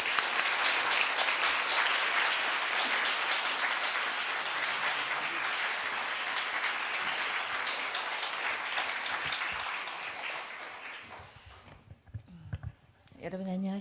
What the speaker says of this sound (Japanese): さあ、先生を大きな拍手でお迎えします。